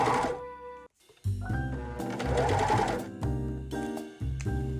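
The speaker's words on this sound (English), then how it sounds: "Starting from the back, sew the collar to the neck opening." A sewing machine stitches a collar onto the neck opening of a bodysuit. The motor whirs in steady runs, with a short stop near the start and a few brief pauses and restarts later.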